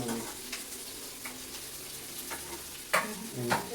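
Sweet dough balls for Diwali frying in hot oil, a soft continuous bubbling sizzle with a few sharper pops and spatters near the end, no speech.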